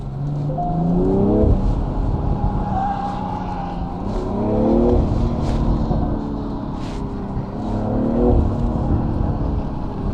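Stock exhaust of a BMW M340i heard from inside the cabin while driving, with repeated rising engine pulls as it accelerates through gears, a moderately loud droning rumble with road noise between pulls.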